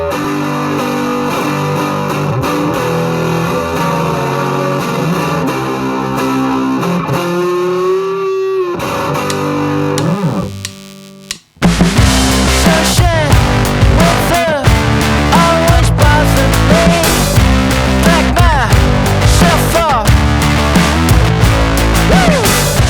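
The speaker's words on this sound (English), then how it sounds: "I didn't hold out a lot of hope for the Elasis micro limiter as a guitar distortion unit, but turns out it's actually okay." Electric guitar driven through an Elysia micro limiter acting as a distortion unit, playing loud, gritty riffs that stop briefly around the middle, then return with denser chords.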